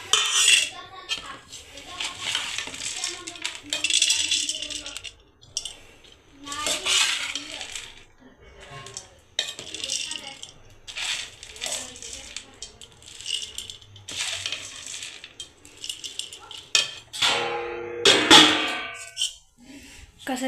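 Bhel being served onto plates during a farm outing: repeated clinks, rattles and scrapes of dishes and cutlery, close and fairly busy, with no voices.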